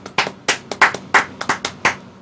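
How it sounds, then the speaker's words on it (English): Scattered hand claps from a small group of listeners, about a dozen distinct sharp claps in an uneven rhythm, close and fairly loud with no talk over them. "can we get a round of applause for Mike Brown real quick?"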